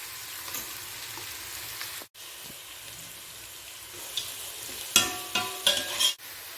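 Onions sautéing in a pan for mint rice, a soft steady sizzle under light stirring, with a brief gap and then sharper scraping and clinks of the spoon near the end.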